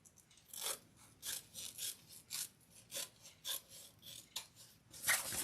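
Scissors trim the fabric sides of a handbag in a series of close, quiet, rhythmic snips and rasps, about two per second, alone without talk.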